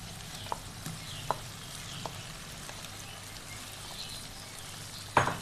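Boiled beef going into karahi masala gives a faint, steady frying hiss. A few light ticks and stirring taps come through, and a sharper clatter sounds near the end.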